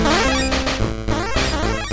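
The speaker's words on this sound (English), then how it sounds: "if you walk into something you can't kill with the sword, then it makes an annoying sound" A harsh, buzzy, looping video game effect from Monster Max sounds when the character walks into something the sword can't kill, loud, grating and continuous for about two seconds.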